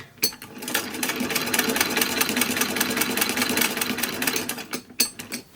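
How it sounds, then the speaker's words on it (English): A 1939 vintage sewing machine stitches elastic onto a 1940s party dress in one steady, close, fast mechanical chatter of needle strokes. It starts and stops with short bursts at either end, and no voice is heard. "we're going to just sew the elastic on. So I'm using Vibra, the 1939 machine."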